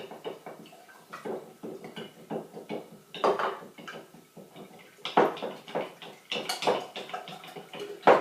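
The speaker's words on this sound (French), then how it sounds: "Je verse ma solution de borax avec ma colle tout en continuant de mélanger." Glue is stirred while borax solution is poured in to make slime, giving soft wet squelches and irregular light clicks of a utensil against a container, close and quiet.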